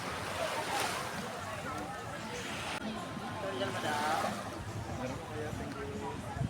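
Surf rolling onto Puka beach in Boracay, a steady broad wash of breaking waves with wind buffeting the microphone, while people chat close by throughout.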